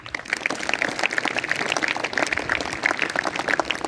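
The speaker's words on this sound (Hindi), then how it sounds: "ताली बजाओ इस बच्चे की" Applause from a seminar audience clapping for a child, a dense, steady patter of many hands at moderate distance lasting throughout with no talk.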